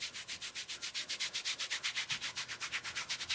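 Kinesio tape being rubbed onto the skin of the elbow: a fast, regular run of close, soft swishing strokes, about eight per second, with no talking.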